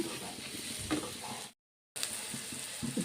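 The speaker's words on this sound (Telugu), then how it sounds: "ఇప్పుడు ఉడికించుకున్న సేమియా వేసుకుందామండి" Cooked vermicelli tumbling into a pan of seasoned scrambled egg, with steady sizzling and stirring scrapes close up, broken by a brief dropout partway through.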